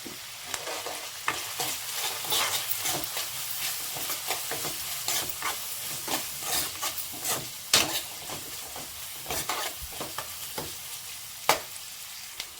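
Mango and brinjal pieces frying in a pan with turmeric powder, a steady close sizzle under repeated scraping stirs of a spatula, with no talk.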